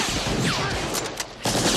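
Rapid gunfire in the bar shootout from Raiders of the Lost Ark, a dense fusillade of overlapping shots with a ricochet-like whine, continuous and loud throughout.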